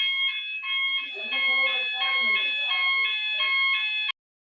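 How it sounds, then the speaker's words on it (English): A fire alarm sounds in a city council chamber during a meeting, a loud electronic tone pulsing in steady repeated beeps for about four seconds before cutting off abruptly, with faint voices briefly underneath. "We believe we have a false alarm with the fire alarm."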